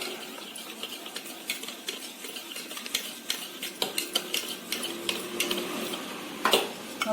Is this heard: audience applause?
no